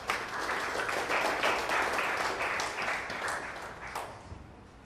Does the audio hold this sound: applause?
yes